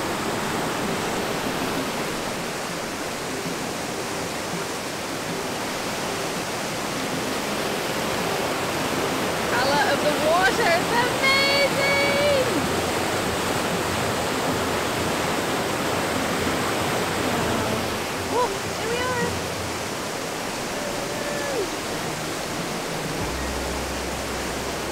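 Okere Falls waterfall and river in New Zealand, a constant loud rush of falling and flowing water; faint voices surface briefly in the middle and later.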